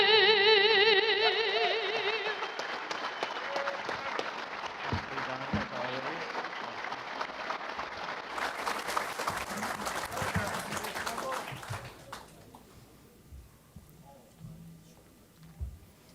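Sustained audience applause at a Lincoln Day dinner for a singer who has just finished the national anthem, loud and dense at first and then tapering off gradually into scattered clapping and room noise.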